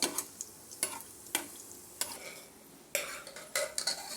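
Something fries lightly in hot ghee with a quiet, faint sizzle, broken by repeated sharp scrapes and clinks of a spoon stirring in the pan, close up and without speech.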